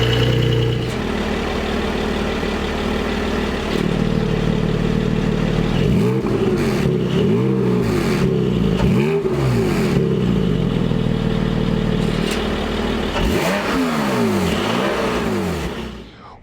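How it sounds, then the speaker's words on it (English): A Porsche 718 GT4 with its sports exhaust valves open idles with a loud, rumbling burble, then gets sharp repeated blips of revving and a second burst of throttle rising and falling near the end. "you hit a button in the cabin and the valves open up and the exhaust gets louder"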